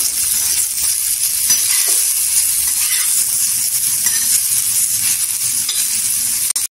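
Onion and dry coconut roast on low gas in a pan until golden, giving a loud, steady close sizzle with occasional stirring scrapes and clinks. It cuts off abruptly at the end.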